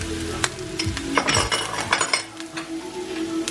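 Garlic and lemongrass hit hot oil and sizzle steadily, with scraping and clinks of a utensil stirring in the pan close by.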